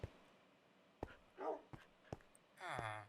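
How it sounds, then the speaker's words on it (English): Dogs in the Minecraft video game bark and whimper faintly, with scattered short yips and a longer whine near the end, sparse and quiet. "Bunch of dogs."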